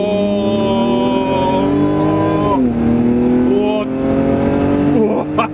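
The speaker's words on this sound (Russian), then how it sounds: "Ну, мотор у нас будет чуть громче звучать." A BMW 330 E46 engine and exhaust hum and rise steadily in pitch, revving up twice with short dips between, heard from inside the car.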